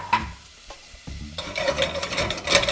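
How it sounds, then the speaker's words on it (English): Butter melts in a pan with onions and garlic softened in sake, a brief close sizzle broken by a couple of utensil knocks, then building into livelier crackling and spitting. "I'm gonna put a couple tablespoons of the butter in here."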